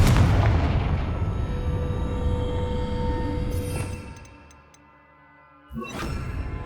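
A Confringo blasting spell erupts in the Hogwarts Legacy video game with a loud, booming explosion and long rumbling decay, then a second sharp blast near the end.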